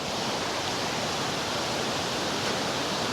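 A waterfall swollen by heavy rain pours over a mountain path near Gosausee in the Austrian Alps, a dense, steady rush of water filling the sound closely with no voices.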